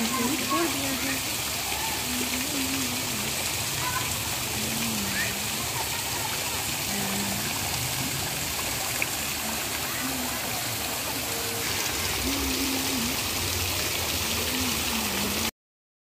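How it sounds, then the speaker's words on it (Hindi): Water runs steadily in a residential society garden, a constant broadband rush like a small fountain or stream. No music plays over it, and faint intermittent tones and background sounds surface beneath the flow. "जहाँ पर पानी की आवाज़ है वहाँ पर मैंने म्यूज़िक नहीं लगाया है, क्योंकि मुझे पानी की आवाज़ सुनना बहुत अच्छा लगता है।"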